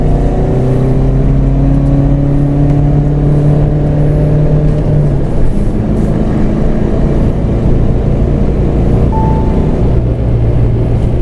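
A stage-tuned Mahindra Thar with 450 Nm of torque accelerates hard, its engine note climbing steadily, dropping back at each gear change and rising again, loud and close.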